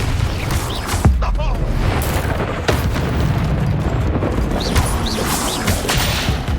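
Spell explosions in Hogwarts Legacy, a Confringo blast among rapid casting, heavy booms and crashes landing close and loud over a dense rumbling bed of combat effects.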